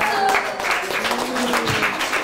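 Applause from the guests at a child's first-birthday party, a steady wash of many hands clapping together across the room, without a break.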